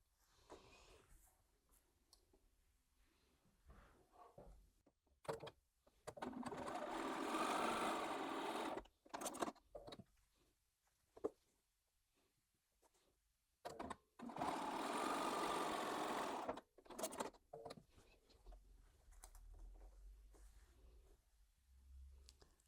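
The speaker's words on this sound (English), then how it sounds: "I'm just going over to the sewing machine to put all those together." An electric sewing machine stitches quilt fabric in two steady bursts of a few seconds each, with quiet handling sounds and pauses between stitching runs.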